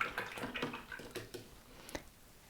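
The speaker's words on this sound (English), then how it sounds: "now what I'm going to do is I'm going to rinse my brush" A watercolor paint brush swished and tapped in a water jar, giving soft, faint splashes and clinks in a quiet room.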